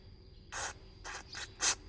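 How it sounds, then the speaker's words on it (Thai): Cleaning spray is sprayed into the car key lock system of a Toyota Vigo in four short hissing bursts, close and fairly faint, with the last burst the sharpest. "ฉีดเข้าไปเลย"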